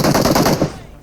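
Rapid automatic gunfire in PUBG Mobile, a loud, dense burst of closely spaced shots over about half a second, then fading into a ringing tail.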